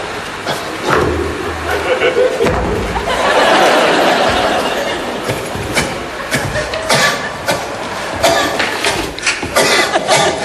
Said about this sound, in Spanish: ahí mientras tose el personaje central de esta historia